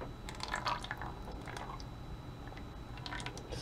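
Melted melt-and-pour soap poured into a mold for swirled, layered bars, giving soft wet drips and squishy liquid sounds, fairly quiet and close, with no talking.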